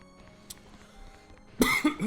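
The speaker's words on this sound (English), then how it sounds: "Do you believe that coughing?" A few loud, close coughs burst out near the end after a quiet stretch of faint background sound, with a couple of separate hacking bursts.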